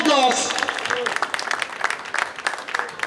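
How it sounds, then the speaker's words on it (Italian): Festival audience applauds performers at a comedy-style show in Lamezia, a brief voice at the start giving way to scattered, uneven clapping that carries on at moderate loudness. "un applauso ai nostri compitos"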